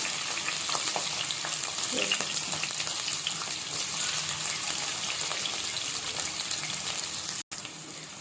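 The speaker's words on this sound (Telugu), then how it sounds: "ఆనియన్స్ ఫ్రై అవుతున్నప్పుడే పుదీనా కూడా వేసేసుకుందాం వీటిని కొంచెం సేపు ఫ్రై చేసుకుందాం" Chopped onions and green chillies fry in hot oil with garam masala in a pan, a continuous close crackling sizzle with faint scattered stirring ticks and a brief break near the end.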